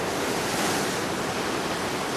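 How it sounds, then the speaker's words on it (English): Ocean waves break on the beach at Vivonne Bay, a steady broadband surf roar with no distinct individual crashes, loud and continuous throughout with some wind noise mixed in. "The waves coming in here."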